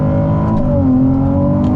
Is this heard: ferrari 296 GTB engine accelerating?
yes